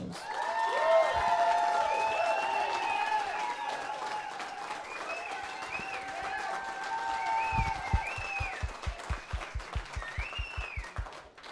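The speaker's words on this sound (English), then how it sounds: "So round of applause for these guys" Audience applause after a student jazz ensemble's set at a club, a broad wash of clapping with voices and horn-like tones over it, ending in a run of loud, rhythmic claps near the mic.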